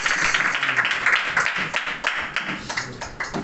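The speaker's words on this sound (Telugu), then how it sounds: "చప్పట్లు" Church congregation clapping hands together during a service, a dense, steady patter of many hands, fairly close and continuous throughout.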